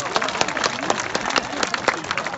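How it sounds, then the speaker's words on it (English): An audience applauds at an outdoor bird show at Healesville Sanctuary near Melbourne, Australia, with scattered moderate clapping and crowd murmur that holds steady throughout. "How about a big round of applause for that?"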